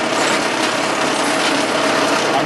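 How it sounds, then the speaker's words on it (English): A hand drill bores pilot holes into metal with a sharp bit, giving a loud, close, gritty grinding whir that runs continuously with slight fluctuations. "drilling pilot holes"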